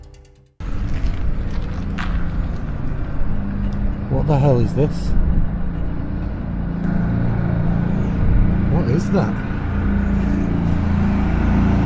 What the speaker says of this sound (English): Oh, it's a gritter.